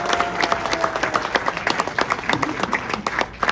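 Cinema audience at a Blues Brothers screening breaks into steady clapping and applause, a dense crowd sound that runs without a break, loud and close.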